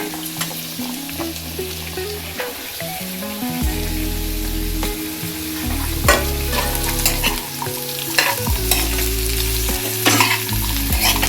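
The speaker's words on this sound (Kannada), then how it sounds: "ಇದು ಈ ಥರ ಹುರಿದು ಹಸಿ ವಾಸನೆ ಎಲ್ಲ ಹೋಗೋ ಥರ ಮಾಡಿದ್ರೆ ತುಂಬ ಟೇಸ್ಟಿಯಾಗಿರುತ್ತೆ" Chopped bottle gourd pieces fry in a pan with a steady sizzle, broken by repeated scraping stirs of a spoon against the metal.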